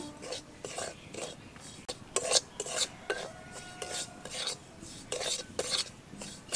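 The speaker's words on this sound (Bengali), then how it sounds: "এখন ময়দা সুজি আবারও খুব ভালোভাবে নেড়ে নেব" Rhythmic scraping strokes of a spoon stirring dry semolina and flour in a pan, a dozen or so rasping sweeps close by.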